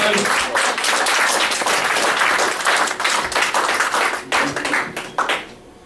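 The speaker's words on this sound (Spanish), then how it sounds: "Denle un fuerte aplauso al Dios Todopoderoso." A church congregation gives loud, sustained applause to God during a Spanish-language sermon, dense clapping that holds steady for about five seconds and then thins out near the end.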